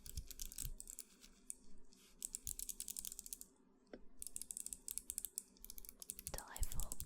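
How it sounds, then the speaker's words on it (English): Mechanical keyboard switches on a hot-swap board with no keycaps are typed in quick bursts of close, light, tacky clicks separated by brief pauses, with soft breathy noises near the end. "Here you can hear some of the delightful tackiness of our switches before we have any keycaps on them."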